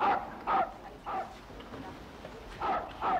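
Several sharp dog barks in pairs, spaced apart with short gaps, moderately close and fairly loud against a quiet background.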